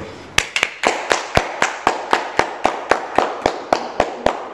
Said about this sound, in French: Applaudissons pour la sœur là.